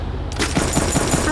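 A string of firecrackers bursts in rapid succession, loud and close, a dense crackling fusillade after a brief quieter start, with no talk.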